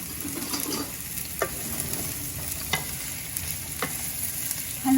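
Chopped onions fry in hot oil in a pan, giving a steady soft sizzle with occasional scraping stirs and a brief louder clatter at the end, with no voices.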